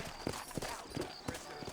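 Horse hooves clip-clop in a steady walking rhythm through the Red Dead Redemption video game, the sturdy horses' footfalls landing about every third of a second, moderately close but quiet in the mix.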